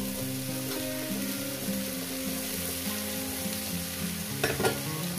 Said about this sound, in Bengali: এটাকে আমি সুন্দর করে ভাজবো